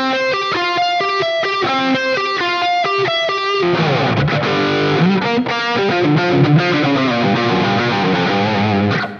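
Heavily distorted electric guitar through an Amped GNR amp-sim plugin set to a tight, pushed plexi tone plays loud, close and alone, starting with a run of picked single notes and then moving into dense, ringing chords.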